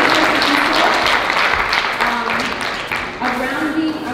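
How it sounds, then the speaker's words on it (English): Applause from an audience at a Mother Language Day celebration, a loud close wash of clapping with voices and cheering mixed in, tapering slightly toward the end. "So please give a wonderful applause to Krishna"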